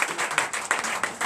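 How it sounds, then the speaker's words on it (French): A church congregation applauding, a dense run of clapping hands that sounds fairly close and steady, with no talking over it. "Veuillez donner l'acclamation au Seigneur Jésus."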